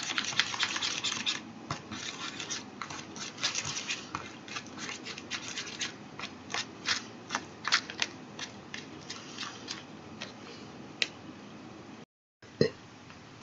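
Colored rice for odango is being mixed up close, giving soft, quiet scratchy rustles and clicks in uneven bursts, with a few louder ticks near the end and no talk.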